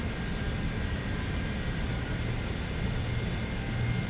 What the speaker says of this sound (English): And this beautiful plane departing now.